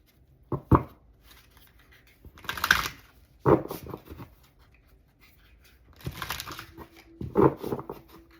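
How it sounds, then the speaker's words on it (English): Tarot cards are shuffled in several separate bursts of crisp riffling and sliding, close and fairly quiet, with short pauses between each mix. "these cards have reversals, so I like to mix them up"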